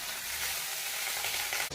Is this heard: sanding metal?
no